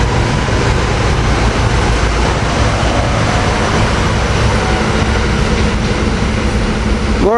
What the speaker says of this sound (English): Last two rail cars is a married pair, which is 312 and 313.